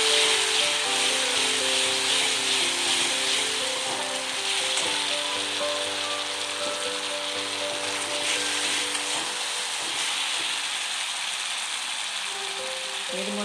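Ginger garlic paste, one tablespoon of it, sizzles steadily in hot oil for a Dhaba-style bhindi masala, a loud even hiss with a faint musical tone running underneath.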